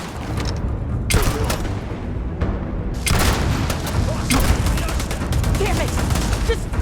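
Heavy gunfire in the Starfield video game: loud bursts of shots and booming blasts crowd the scene, with short lulls between volleys and dense rattling throughout.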